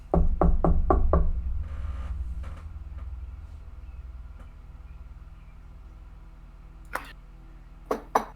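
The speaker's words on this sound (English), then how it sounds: "Knock, knock, knock." Knocking on a door, a quick run of five sharp raps near and loud at the start, then a quieter stretch with a couple of isolated knocks and taps later on.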